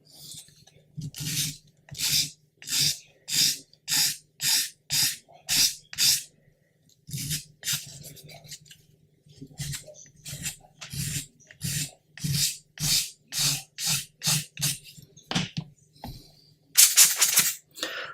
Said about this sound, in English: we can just sand that edge away